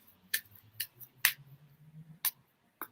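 A deck of tarot cards is shuffled, giving sparse crisp riffling snaps and flicks at uneven intervals, close and quiet, with a low hum underneath.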